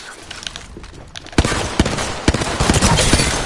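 Gunfire crackles in a shooting video game, first as scattered light pops, then as several loud sharp shots and a dense burst of rapid fire.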